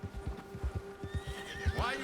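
A horse in Red Dead Redemption 2 trots with a steady clip-clop of hooves, then gives a rising, wavering whinny near the end. Faint background sounds run under both.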